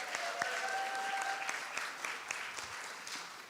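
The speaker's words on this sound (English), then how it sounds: "Let's give him a round of applause as he comes up here." Steady audience applause at a Sunday morning church gathering, a continuous wash of many hands clapping at moderate distance with a few sharper claps standing out, fading slightly toward the end.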